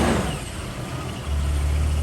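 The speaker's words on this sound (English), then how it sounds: "we're going to reconnect the battery and start it up and just make sure it works" A Toyota Land Cruiser FZJ80, newly fitted with a replacement starter after sitting for a while and jumped from another truck, cranks and catches, then settles into a low, steady idle close by.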